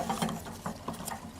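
A 1.5 inch wrench tightens a water heater heating element, giving short ratcheting clicks and metallic creaks up close, faint and brief, with no talking.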